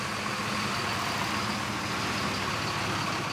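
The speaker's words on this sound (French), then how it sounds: "Du vacarme des camions frigo" Refrigerated trucks idle at night in a dense, continuous mechanical drone, steady and moderately loud with no breaks and no voices.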